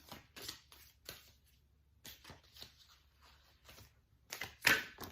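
A deck of tarot cards is shuffled by hand in scattered soft riffles and taps, close and fairly quiet, ending in a louder burst of card noise.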